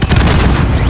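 A rocket launch and blast in the game Call of Duty Warzone, at an airport battle in Plunder mode, gives one loud, dense boom with heavy low rumble that fills the whole second and barely decays.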